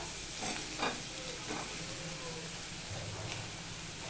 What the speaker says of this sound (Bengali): এবার আমি এই আলুটা দিয়ে দিচ্ছি, আলুর সাথে ভাজা হয়ে যাবে বাদ বাকিটা।